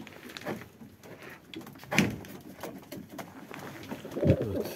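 Young pigeons flying in a flock coo close by, with soft repeated coos, light flutters and a louder burst near the end.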